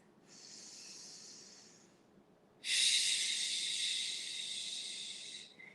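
Two long breaths during a seated yoga stretch, a softer hissing exhale followed after a short pause by a louder, longer one, close and alone.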